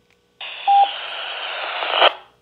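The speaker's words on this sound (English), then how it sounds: "Now here's a local repeater. I'll let you hear well it sounds." A local UHF repeater comes through a DMR CS 580 handheld radio as a burst of squelched, band-limited transmission lasting under two seconds, with a brief tone near its start and an abrupt cutoff.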